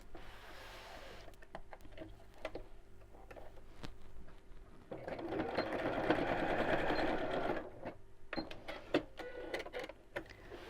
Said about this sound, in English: I'm going to sew straight across the end